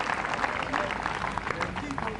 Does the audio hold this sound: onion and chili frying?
no